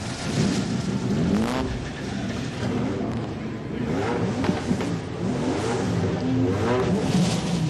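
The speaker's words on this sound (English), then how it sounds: "those V8s and Nissans and BMWs explode into life here on the starting grid at Mount Panorama" V8 touring cars, Nissans and BMWs fire up and rev on the starting grid at Mount Panorama for the 1992 Bathurst 1000, a loud layered roar of several engines blipping and revving continuously, with faint voices underneath.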